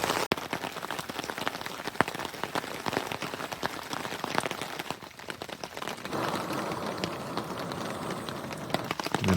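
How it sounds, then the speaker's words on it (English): Steady rain patters on a tent and a forest trail along a river hiking route, a dense continuous spatter of drops with louder close hits, no talking. "It is fully raining."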